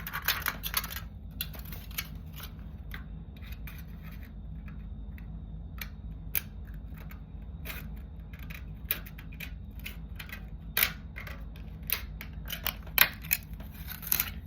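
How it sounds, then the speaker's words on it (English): Scissors snip along a line, probably through thin material, with quick sharp crisp cuts coming in irregular bursts over a low background hum, close and fairly quiet, with no talk. "And then you're going to want to cut right along this other line."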